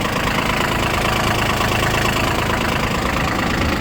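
A red Shibaura SP1540 mini tractor with a front loader idles close by, its engine running in a loud, steady, rough chug with no change in pace and no voices.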